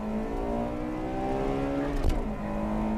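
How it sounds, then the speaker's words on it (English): Honda Type R cars, the 96 and 98 models, roar down a quarter-mile drag strip, a loud sustained engine whine with a pitch that climbs steadily, then a brief burst as a car sweeps past. "A quarter-mile race between the 96 and 98 models."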